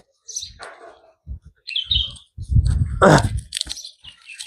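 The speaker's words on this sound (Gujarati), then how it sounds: "કબૂતર આવી ગયા છે વાઈટ કબૂતર એ બેઠા છે" Several short pigeon calls and chirps from white and black pigeons, scattered across a few seconds, close by, with some low thumping and shuffling in between.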